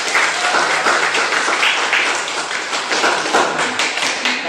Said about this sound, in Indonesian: Tepuk tangan juga kalian semua.